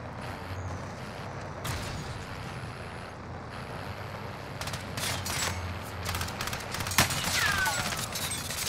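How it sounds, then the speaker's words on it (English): Gunfire in Doom bursts through a wall as scattered sharp shots and a rapid volley, mostly mid-distance, over a low rumbling game ambience with no talking. "They shooting through the wall, bro."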